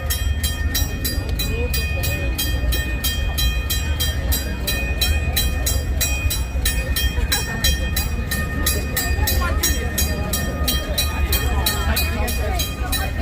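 Red steam locomotive train at Six Flags Over Texas amusement park, heard as a loud, steady rumbling roar of rail noise that carries on without a break.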